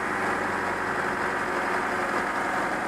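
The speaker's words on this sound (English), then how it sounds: "Just let it run like this. Let it idle for a while." A 1998 Honda Civic 1.6L engine idles after a blown head gasket and timing belt job. The idle is a smooth, steady, close hum with faint vibration and no revving or talk.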